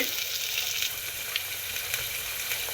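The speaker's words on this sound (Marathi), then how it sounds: "आता याला छान प्रकारे असं हलवून घेऊ" Potatoes sizzle steadily in a frying pan while being stirred, a close, continuous crackling hiss with a few soft scrapes and no talking, for a Maharashtrian dal-rice khichdi.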